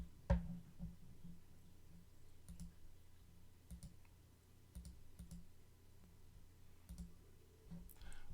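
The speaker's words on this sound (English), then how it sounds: "A lot of clicking." Faint, scattered clicks sound at irregular intervals over a quiet room hum, like keyboard typing or mouse clicking nearby, with no voices.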